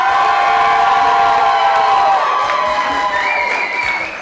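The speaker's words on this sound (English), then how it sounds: "we're going to have to do one more round of cheering" Game show studio audience cheering and applauding in a sustained, loud wash of crowd noise with whoops and rising shouts toward the end.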